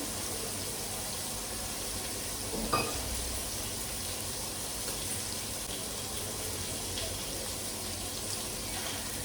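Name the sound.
water poured into pot for coconut milk rice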